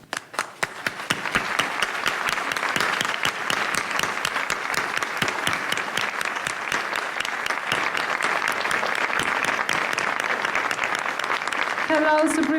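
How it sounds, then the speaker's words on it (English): A big audience in Mexico claps enthusiastically in a warm welcome for a speaker, sustained applause after a few scattered first claps, with a faint tone at the end. "let's give a warm round of applause"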